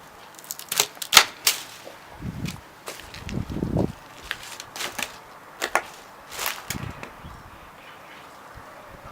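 Pruning shears snip through rose bush stems, a few sharp clicks scattered between soft rustling of branches, close and fairly quiet with no talk.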